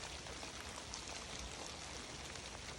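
Rain falling steadily on a cold wet night outdoors, a dense even hiss with scattered drops, moderately quiet and continuous with no voices.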